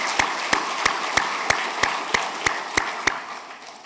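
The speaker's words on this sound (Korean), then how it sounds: "큰 박수로 환영하겠습니다." A church congregation claps in unison with a slow, even beat of about ten sharp claps over a steady wash of broader applause that fades slightly toward the end.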